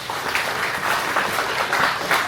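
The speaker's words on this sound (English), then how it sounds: "give yourselves a round of applause for being here" An audience at a community talk on women shaping the Gorge economy gives itself a steady round of applause. Many hands clap together in an even, continuous wash of sound throughout.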